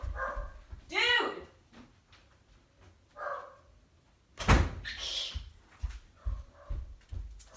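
A pet dog barks and whimpers in a few short bursts at close range in a home, mixed with door or cupboard knocks and a person's loud voice shouting at it.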